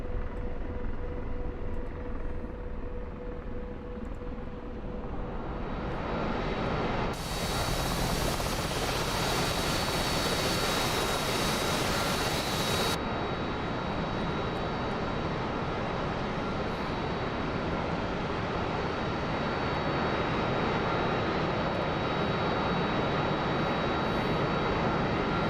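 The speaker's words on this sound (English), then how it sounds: "the Harrier's really loud" A Harrier jet engine roars steadily in the DCS flight simulator, a loud sustained whine and rumble that swells into a brighter blast midway and then settles back to a constant drone with no talk.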